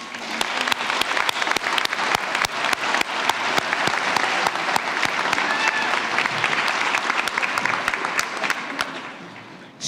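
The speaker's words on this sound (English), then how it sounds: "applause." Applause from a crowd at a high school commencement ceremony, dense sustained clapping that fills the space for about ten seconds before tapering off at the end.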